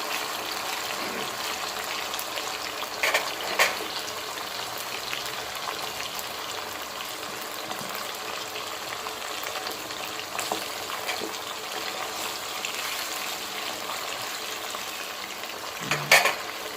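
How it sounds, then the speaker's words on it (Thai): Marinated pork sizzles steadily in hot oil in a pan, a continuous crackling hiss with a few louder pops and clinks of a utensil. "แล้วมันก็จะทอดประมาณสองกระทะ"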